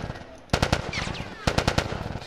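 Bursts of rapid automatic gunfire in The Last of Us, two clusters of sharp cracking shots with a short gap between them, heard over faint game ambience.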